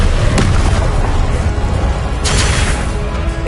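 Incendio fire spell blasts in Hogwarts Legacy: loud, dense fiery bursts in a busy combat din, with one sharp burst early and a second strong blast past the midpoint.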